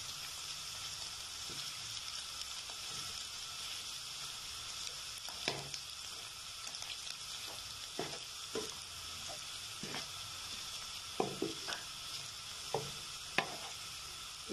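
Coriander is mixed into butter garlic mushrooms in a pan: a steady sizzle with scattered spoon scrapes and taps, fairly faint and free of talk.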